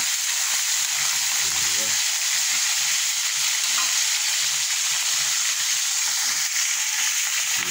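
Food sizzling steadily in a frying pan as a home cook fries it, a constant bright crackle with a brief voice speaking once near the start.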